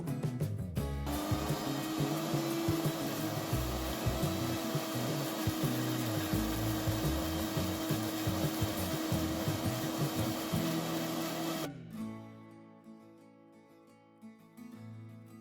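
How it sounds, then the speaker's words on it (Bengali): A kitchen grinder blends coriander-mint chutney with a little water, a loud, steady motor whine and churning rattle that runs for about twelve seconds, then cuts off and leaves faint clatter. "অল্প একটু জল দিয়ে গ্রাইন্ড করে এর চাটনি বানিয়ে নেব।"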